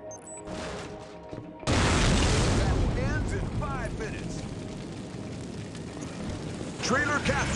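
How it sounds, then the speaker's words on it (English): A video-game explosion in the Mobile Forces Hydroworks map bursts in suddenly as a loud, dense roar, then rumbles on with crackling debris; an electronic voice and synthetic whooshing sounds ride over the blast. "Explosion imminent."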